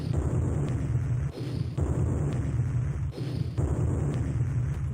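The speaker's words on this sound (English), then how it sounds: "Nice explosions though." Explosions boom repeatedly in Dune II on the Commodore Amiga, dense noisy blasts landing in a rough rhythm with brief dips between them, loud and continuous over the game's background.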